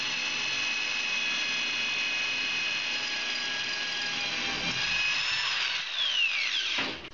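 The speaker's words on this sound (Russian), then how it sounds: "А потом приспокойненько сверлим, не боясь ошибиться с перекосами." A power drill with a carbide bit bores into ceramic tile during a bathtub faucet installation, giving a sustained high whine that holds steady and then winds down in pitch near the end.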